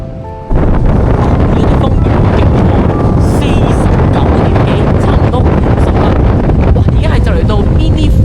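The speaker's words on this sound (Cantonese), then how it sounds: "但係真係大雨仲勁過大風喎" Strong wind roars and buffets the microphone amid heavy pouring rain, a loud, constant rush that hits suddenly after a quieter start, with a voice briefly audible.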